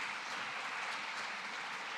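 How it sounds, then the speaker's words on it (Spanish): Church congregation applause in a Spanish-language service, a continuous, even roar of many hands clapping, soft and somewhat distant, with no voices over it. "Vamos a darle otro fuerte aplauso a nuestro Señor Jesucristo."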